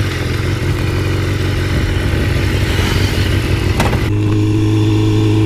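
A sports motorcycle engine runs steadily at close range, a loud continuous idle-like drone that shifts pitch slightly near the end, with no voices.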